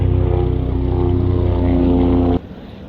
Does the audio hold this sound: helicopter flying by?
yes